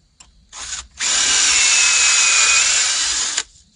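A power drill pre-drills a wooden board with a depth-set bit, giving a short burst and then a loud, sustained high whine for about two and a half seconds before stopping abruptly, close and alone.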